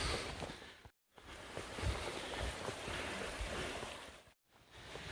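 Muddy, fast-flowing creek after heavy overnight rain, crossed on a winter Appalachian Trail shakedown hike, giving a steady close rushing water sound with brief dropouts and no speech.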